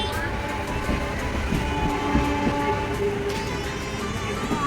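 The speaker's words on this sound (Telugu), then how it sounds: "ఇప్పుడే ట్రైన్ అయితే కదిలింది మా ట్రైన్ జర్నీ స్టార్ట్ అయింది తిరుపతికి" An express train from Secunderabad to Tirupati rolls along steadily, a constant low rumble with faint rhythmic clatter of wheels on track, heard from inside the carriage.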